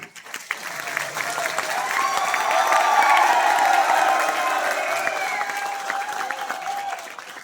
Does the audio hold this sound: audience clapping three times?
yes